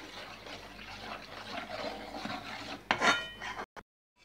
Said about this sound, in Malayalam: കുറേച്ച കുറേച്ച തേങ്ങാപ്പാൽ ഒഴിച്ചു കൊടുത്ത് നമുക്ക് ഒന്ന് ഇളക്കി യോജിപ്പിച്ചെടുക്കാം നല്ല രീതിയിൽ.